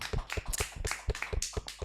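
Clapping for a power pop band, a run of close, sharp claps in an uneven rhythm, fairly quiet and with no talking over it.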